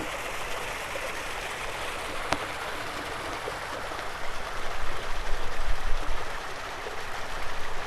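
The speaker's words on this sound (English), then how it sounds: "A nice little cute little waterfall over here." Up close, a small waterfall in the Rockies pours in a continuous hissing rush, one sharp click partway through and a deeper surge of churning water building in the latter half.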